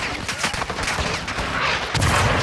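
Rapid bursts of gunfire and heavy shots crackle in a Call of Duty Modern Warfare II battle, dense and loud throughout the short stretch.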